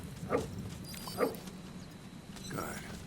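A dog barks in the Metal Gear Solid V video game: two short, sharp barks rise over steady game ambience, and a brief voice-like sound follows near the end.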